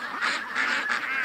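Ducks hunting frogs in a freshly cut field give a brief, loud, close burst of overlapping honking calls with no pause.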